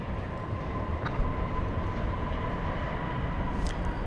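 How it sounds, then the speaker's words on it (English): Spirit Airlines Airbus A321 on flight 935 from Fort Lauderdale arriving at DFW at night, a steady broad engine roar and rumble holding at constant loudness throughout. "This is flight 935 coming in from Fort Lauderdale, an Airbus A321"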